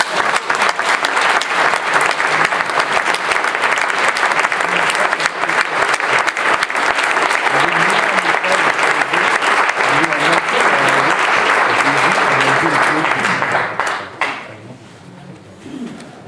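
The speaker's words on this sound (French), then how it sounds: "Et voilà Valérie, je vous demande de l'applaudir" Applause from an audience at a UMP political support event, sustained and dense for about fourteen seconds before tapering off into quieter room sound.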